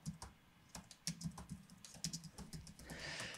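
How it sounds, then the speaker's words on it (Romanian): A computer keyboard clacks under steady typing as a search query is entered, with quick irregular keystrokes close by and a soft hiss rising near the end. "Atunci când nu știi ceva, îl tastezi în site-ul ăsta."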